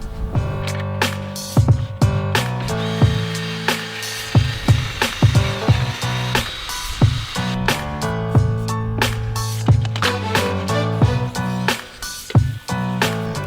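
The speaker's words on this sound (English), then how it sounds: "these are actually like nylon brushes. I just go on a drill I got off Amazon" Drill spinning nylon brushes to clean motorcycle parts, nuts and bolts from an RM 125, a whirring motor with repeated sharp scrubbing bursts and clicks in an uneven rhythm, close and fairly loud, no speech.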